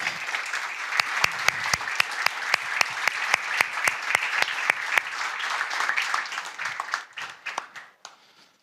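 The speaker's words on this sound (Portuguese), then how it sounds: "E aí está, um aplauso." Audience applause at a university student association event in Portugal: steady, fairly close clapping from a group that tapers off and fades out near the end.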